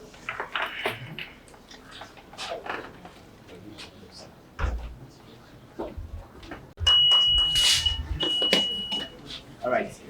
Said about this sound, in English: All right, the bells are all working.